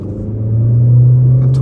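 A 2023 Honda Accord LX with the 1.5-liter turbo and CVT accelerates at about half throttle, a loud steady low engine drone that swells slightly over a second and a half.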